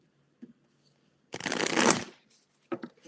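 A deck of tarot cards is riffle-shuffled in one loud, fluttering burst lasting about half a second, with faint voice sounds before and after.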